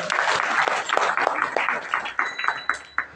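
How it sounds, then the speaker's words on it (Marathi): A kirtan audience claps for a family with a burst of brisk applause that thins into scattered, separate claps before it fades. "या कुटुंबासाठी एकदा जोरदार टाळ्या."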